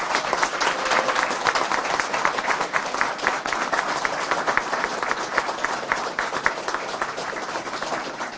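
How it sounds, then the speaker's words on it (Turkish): Dense, sustained applause from a large crowd at an AK Parti political rally in Sinop, Turkey, loud and continuous throughout with no pauses. "sizden Cumhurbaşkanımıza şöyle kocaman bir alkış istiyorum."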